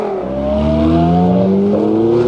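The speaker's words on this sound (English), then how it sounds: "Watch out now, they're revving it up." A race car engine revs loud and sustained at the start of a Hot Wheels diecast Lamborghini race, its pitch rising and wavering in a continuous roar.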